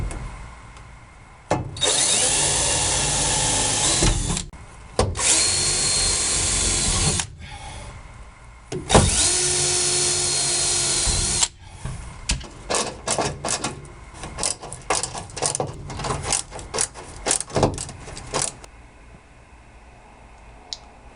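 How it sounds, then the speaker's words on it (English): A power drill bores into and drives screws through a hardboard support inside a 1964–67 Volkswagen bus, in several loud whirring bursts broken by short pauses and rapid handling clatter, with no talking. "Just center it, drill and screw."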